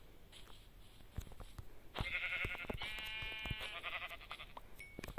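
A Minecraft sheep bleats in a quavering, wavering cry lasting about two seconds, fairly close and clear over faint footsteps and soft game ambience, with short clicks before and after.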